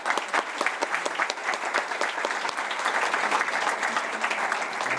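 An audience at a conference on infrastructure for a transition in Cuba breaks into sustained, dense applause, a steady roar of many hands clapping close by for the whole stretch.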